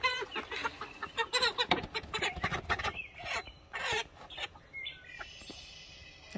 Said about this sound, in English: I got the rest of the hens up there.